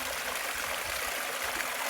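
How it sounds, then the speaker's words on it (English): Water pours steadily from a wrap-around spray bar on a 6-inch Gold Rat highbanker gold-prospecting sluice, a loud, constant rushing splash with no break. "not completely happy with how the water's coming out there."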